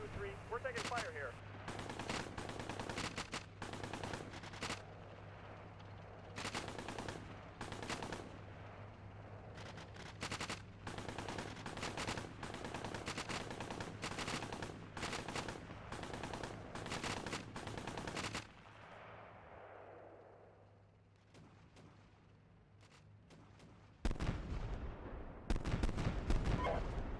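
Incoming gunfire in the Steel Beasts Pro PE tank simulator, CV90/30-FI, repeated loud shots and bursts in a steady irregular stream over a constant engine hum, a brief lull, then a heavy rumbling barrage.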